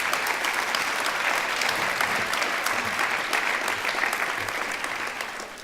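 An audience at a thesis-in-180-seconds event applauds steadily, a dense, loud wash of clapping that holds for several seconds before easing slightly at the end.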